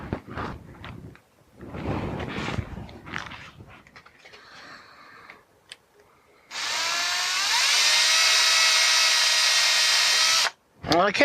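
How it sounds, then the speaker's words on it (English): A power drill boring holes in a filament dryer, a loud, steady whining drill run lasting about four seconds after some earlier shuffling and handling noises, then stopping abruptly. "give me a few minutes while I start drilling."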